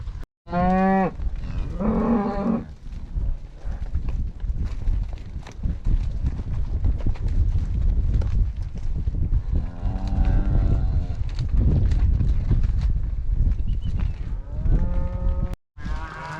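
Cattle on a ranch moo repeatedly while being herded, several loud, drawn-out calls near and far over constant hoofbeats and movement noise, with no talk.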